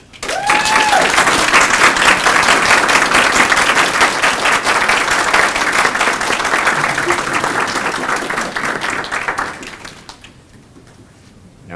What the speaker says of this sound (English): this is our time to applaud them.